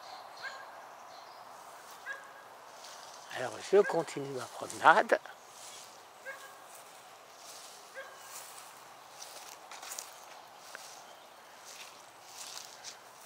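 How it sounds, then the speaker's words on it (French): Two big dogs barking behind the fence of a house in a Coral Springs, Florida residential area, a burst of deep repeated barks lasting a couple of seconds at middle distance, with someone talking and footsteps around it. "Il y a deux gros chiens."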